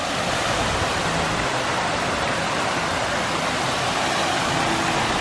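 Steady loud rush of water at the entrance of a resort lazy river, dense and continuous like a small waterfall, with no talking.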